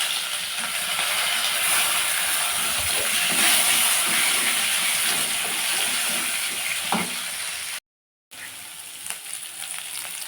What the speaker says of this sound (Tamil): வெங்காயம் நல்லா வதங்கி வரட்டுங்க